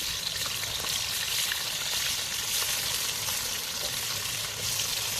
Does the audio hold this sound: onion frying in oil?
yes